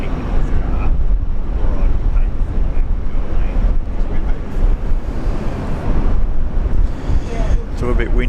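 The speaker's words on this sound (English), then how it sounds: "It's a little bit windy up here" Gusty wind buffets the microphone at a plane-spotting spot overlooking Brisbane International Airport, a steady low roar of turbulence filling the whole stretch, loud and close, with no engines or voices standing out.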